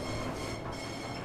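A train in Call of Duty Warzone rolls along with a steady, dense rumble and rush of noise that holds evenly throughout, without any voices.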